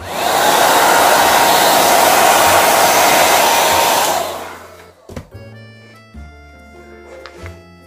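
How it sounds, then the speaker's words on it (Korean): A hair dryer blows loudly and steadily to dry acrylic paint on a Daiso stand, then switches off about halfway through, leaving soft clicks and handling sounds. "집에서 같은 경우는 드라이기를 이용하셔서 말려주시면 되고"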